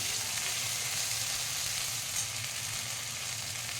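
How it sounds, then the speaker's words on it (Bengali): Ginger paste frying in hot oil with whole cumin, dried chilli, cinnamon and asafoetida, a steady even sizzle that stays at one level throughout, with no talking. "আদাটা ভালোভাবে ভেজে নেব, যাতে কাঁচা আদার গন্ধটা যাতে না হয়"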